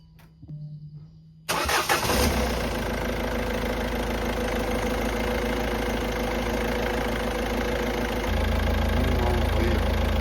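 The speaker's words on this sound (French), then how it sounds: "C'est le compresseur qui va mettre en charge le circuit haute pression." A Peugeot 207 1.6 HDI diesel engine starts up, then idles steadily with the A/C compressor running, a loud continuous rumble that thickens slightly near the end.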